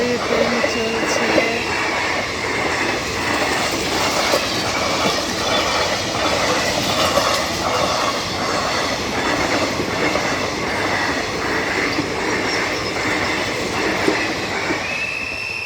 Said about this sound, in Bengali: এই ট্রেন চলছে।